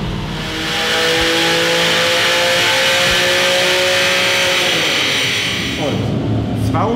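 A Porsche 996 C4 with a 3.6L engine runs on a dynamometer power test, making a loud sustained rev pull whose pitch climbs steadily for several seconds before easing off near the end.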